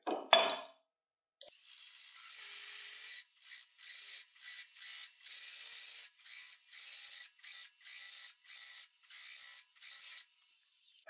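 A sharp Hunter Korpro carbide cutter shears wood on a spinning lathe, giving a repeated rhythmic hiss of pulsing cuts, about a dozen steady bursts with short gaps, close and clear with no voices.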